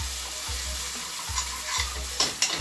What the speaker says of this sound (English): So just allow this to kind of saute a bit, bubble a bit